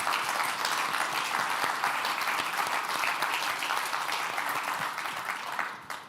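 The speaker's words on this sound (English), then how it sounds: "So if we can give John a round of applause for that" Sustained applause from a conference audience at Tech Ascent 2024, a dense, steady wash of many hands clapping for about six seconds before easing off at the very end.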